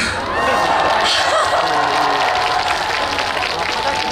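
Festival crowd at an outdoor stage at the Ulsan shipbuilding and marine festival, clapping, cheering and whooping in a loud sustained roar, with shouted voices and whistles mixed through the noise.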